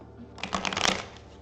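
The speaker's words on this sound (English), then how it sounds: "let's shuffle some cards." Tarot cards are riffled and shuffled close by, a short burst of rapid papery flutters swelling and fading within about a second.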